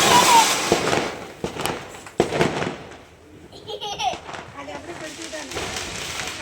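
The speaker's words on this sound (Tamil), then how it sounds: "எங்கள் அம்மா எல்லாருமே பட்டாசு வெடிச்சிட்டு இருந்தாங்க" Firecrackers crack and pop during a Diwali celebration, sharp close bursts over a noisy background, with people talking and laughing throughout.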